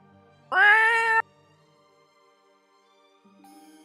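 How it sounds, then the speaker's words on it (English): One loud drawn-out cat meow stands alone, then quiet, then a fainter cry begins near the end. "Cacophony of meows."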